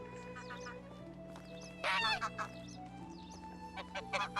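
Geese honking in the Medieval Dynasty video game, several loud nasal honks in scattered bursts over a steady ambient game drone, nearby and without talk.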